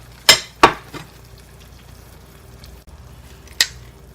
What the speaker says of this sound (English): Now I'm adding the eggs, and I'm going to try to spread it out evenly throughout the veggies